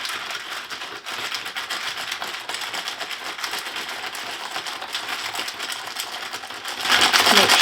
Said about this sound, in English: I'm going to start stirring.